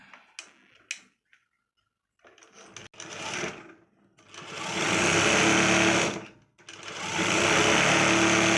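Sewing machine stitching a cross cut blouse, a few scattered clicks and taps at first, then two sustained runs of rapid whirring stitches separated by a brief pause, close and clear.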